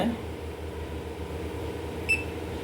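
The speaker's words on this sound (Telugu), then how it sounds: "ఇలా ఒక బీప్ అన్న సౌండ్ వచ్చిన తర్వాత" A single short electronic beep from a Havells Gracia alkaline water purifier rings out near the end over a low steady hum.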